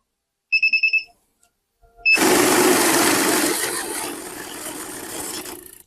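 A money counting machine gives a short series of electronic beeps, then after a pause whirs loudly as it riffles rapidly through worn, soft banknotes, a steady close mechanical rush that eases slightly toward the end.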